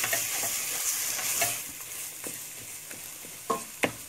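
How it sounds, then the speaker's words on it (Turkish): A spoon stirring and pressing flour halva in a pan over low heat, with soft continuous scraping and a few sharp clinks near the end, sizzling faintly underneath. "Böyle bastıra bastıra kaşığımızla tüm unlarımızın suyu yemesini sağlıyoruz."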